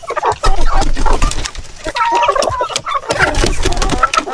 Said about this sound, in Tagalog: Yung native na manok na ito, yan din.